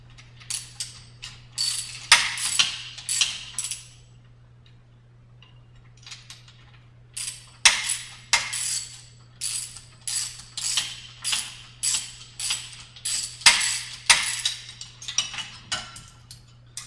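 Ratchet clicking as nuts are backed off the eccentric hub assembly of a StairMaster SC916 stair climber, with rapid bursts of close, loud ratcheting separated by short pauses over a steady low hum.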